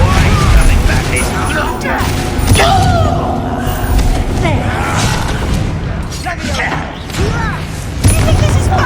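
Bombarda and Confringo spell explosions in Hogwarts Legacy burst as repeated heavy booms and thuds over a dense, busy game soundscape, with a voice talking throughout.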